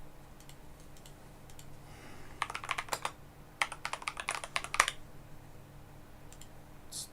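Bursts of typing on a computer keyboard while working in Unity, quick clustered clicks in two runs separated by a short pause, close and moderately loud over a faint room hum.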